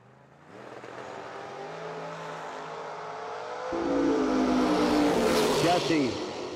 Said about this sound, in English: Pretty nice starting line advantage in the win light for the Roadster over Mike McKinney.